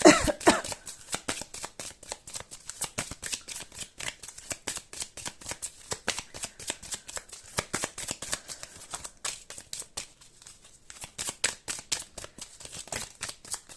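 Tarot-style cards shuffled by hand for a reading, a long run of rapid crisp riffling flicks and slaps, close and steady with brief pauses, no talking.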